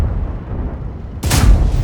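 A sudden loud, deep boom of a T110E3 tank gun shot in World of Tanks cuts in after a low rumbling engine drone, its blast lingering as a broad noisy roar.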